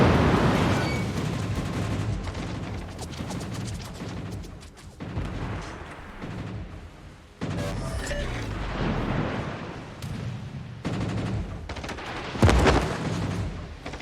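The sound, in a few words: Colbert tank firing shots, from a video game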